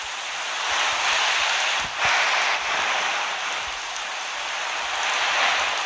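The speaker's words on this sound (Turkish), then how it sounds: "Yağmur yağıyor arkadaşlar." Steady rain patters densely and continuously close by, a constant hiss of drops on a surface with a few slightly louder taps.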